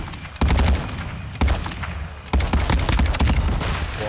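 Rapid automatic gunfire in a first-person shooter, three loud bursts of closely spaced shots with brief pauses between them, close and dominant with no speech.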